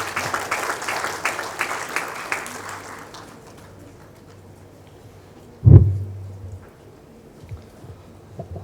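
An audience at a Hindi poetry festival in Hyderabad applauds to welcome a poet, the clapping fading out over a few seconds, followed by a sudden loud thump and quiet room noise.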